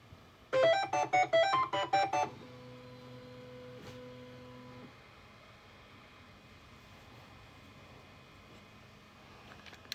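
A Bambu Lab A1 Mini 3D printer plays a short burst of melodic electronic beeps, then settles into a steady tonal motor hum before fading into quiet room background.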